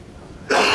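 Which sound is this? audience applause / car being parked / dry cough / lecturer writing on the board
dry cough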